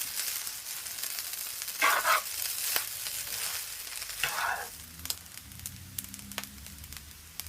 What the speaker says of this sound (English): I'm gonna leave it to fry, guys, for at least 5 minutes